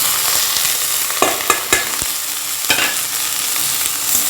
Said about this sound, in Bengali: এরকম নাড়তে নাড়তে ভাজাটা মোটামুটি হয়ে যাবে